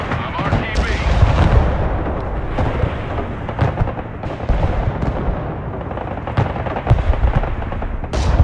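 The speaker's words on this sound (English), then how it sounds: "Mobile artillery ready. Send mission." Mobile artillery fires in the Broken Arrow video game, a series of deep rumbling booms and sharp cracks at irregular intervals under a steady battle din, with players talking over it.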